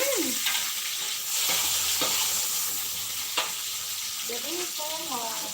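Chili peppers frying in a pan, a steady bright sizzle with crackling spits throughout and brief stirring scrapes, close and continuous with no talk.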